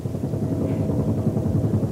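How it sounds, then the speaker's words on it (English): A helicopter buzzes low over a mansion, its steady rotor thrum and engine drone filling the scene continuously and fairly loud, with no voices over it. "maniac buzzing this mansion in a helicopter"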